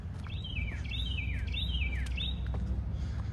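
A loud bird calls repeatedly from somewhere overhead near a college bell tower in a small Kentucky town, a rhythmic series of sweeping, descending chirps over a steady low outdoor rumble.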